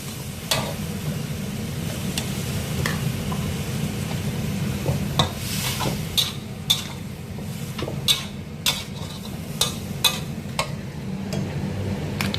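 Bean sprouts and minced pork stir-fried in a pan, with a steady low sizzle underneath and a dozen or so sharp clinks and scrapes of the spatula against the pan, coming irregularly and growing more frequent toward the end.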